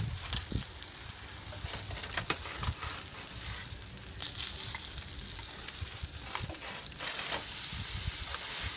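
Pork ribs on a grill sizzle steadily while being basted with Sweet Baby Ray's barbecue sauce, a close, continuous frying hiss broken by occasional brush taps and scrapes, with no talking.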